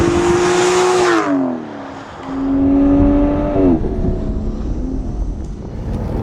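A 2014 Aston Martin Rapide S launches hard with no launch control, its engine roaring loudly as it climbs through the revs, drops on an upshift and pulls again under heavy wind noise, close up from inside.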